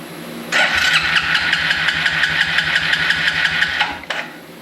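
A carbureted Suzuki 4-wheeler engine cranks over with its carburetor removed, a loud steady run of rapid compression pulses for several seconds before stopping, followed by a brief clatter.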